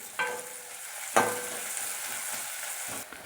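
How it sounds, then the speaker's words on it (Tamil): Small shallots and large onions sauté with curry leaves in a village-style pan, a steady close sizzle with two sharp bursts of crackle as ingredients hit the oil, then an even hiss. "சின்ன வெங்காயமும் பெரிய வெங்காயமும் சேர்ந்து நல்லா வதங்குது"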